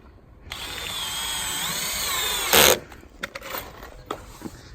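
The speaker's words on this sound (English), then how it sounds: "just putting some screws in somewhere there" A power drill drives screws into SIP panels while a shed workshop is being built, giving a close, sustained whirring run that ends in a loud burst, followed by a few brief clicks and knocks.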